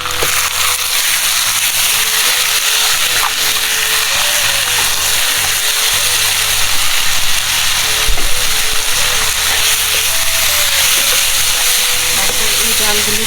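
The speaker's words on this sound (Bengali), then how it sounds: "এই ডালগুলিকে ভাজা ভাজা করবো" Lentils fry in a pan with cumin powder, turmeric and salt, making a loud, dense, continuous sizzle that holds steady throughout with faint stirring scrapes.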